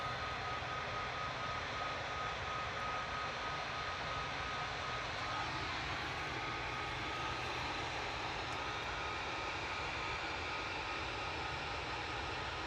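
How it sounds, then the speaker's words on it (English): A TUI Boeing 787-9 Dreamliner jet rumbles at Manchester Airport, a faint, even engine roar with a thin steady whine that holds unchanged throughout. "787-9 Dreamliner."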